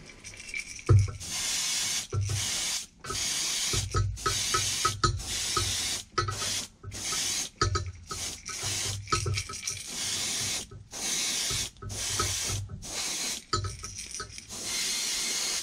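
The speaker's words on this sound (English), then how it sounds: "So let's spray the next one here." An airbrush or spray can hisses in repeated short bursts, a second or so each with brief pauses between, while paint is layered onto a creek chub fishing lure.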